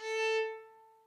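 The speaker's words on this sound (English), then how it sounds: "So this is 440." A single A note at 440 hertz, a bright tone with ringing overtones that sounds once and decays smoothly over about a second, clear and alone.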